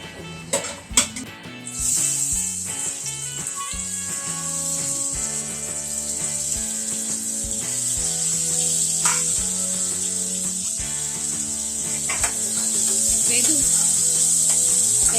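Chopped onion and tomato sizzle in an oil tempering for cashew curry, giving a steady bright hiss that runs throughout beneath background music and scattered clinks.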